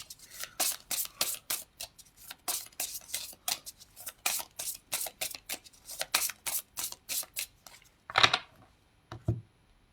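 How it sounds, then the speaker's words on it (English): A deck of oracle cards shuffled by hand, giving a steady run of crisp, close riffling bursts, one after another, ending in a couple of louder slaps. "Actually, I feel like I need to shuffle them again."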